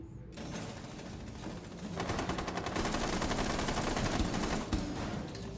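Sustained rapid automatic gunfire from a Rainbow Six Siege match as a zombie is shot, a dense continuous burst of shots running loud for several seconds with no talk over it.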